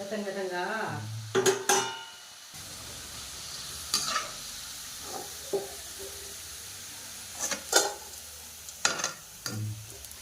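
Onion pakoda batter frying in hot oil gives a soft, steady sizzle, punctuated by several sharp bursts of crackling and utensil clatter as pieces drop in; a brief clatter and voice-like sound opens the clip.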